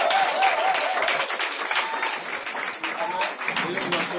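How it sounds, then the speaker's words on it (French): Applause with cheering from an audience at a French-speaking gathering, a dense, steady roar of clapping and voices lasting throughout at close range. "Mesdames et messieurs, vos acclamations."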